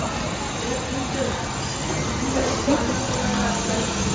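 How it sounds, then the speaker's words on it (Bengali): A train passes close by near a riverside bathing ghat, giving a loud continuous rumble of wheels on rails with a faint squeal, steady throughout with no clear speech. "এক্ষুনি ট্রেন আছে"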